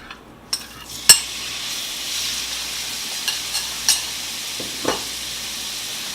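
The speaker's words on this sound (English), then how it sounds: "it's time to start sauteing my lobster meat and my shrimp" Lobster meat and shrimp sauté in olive oil in a skillet, giving a soft steady sizzle broken by a few sharp clinks of a utensil against the pan, close and without voices.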